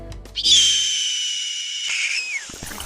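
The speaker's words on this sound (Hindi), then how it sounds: "हॉक एक शक्तिशाली शिकारी पक्षी है जिसे इसकी तेज नज़र, तेज उड़ान और घातक शिकार तकनीक के लिए जाना जाता है।" A hawk, a powerful bird of prey, lets out a single long, loud, piercing screech that holds for about two seconds before trailing off, heard close and alone.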